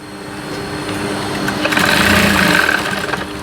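A sewing machine stitches a square, open table-top fabric pouch, giving a steady mechanical whir that builds slightly in intensity and runs continuously up close with no talking.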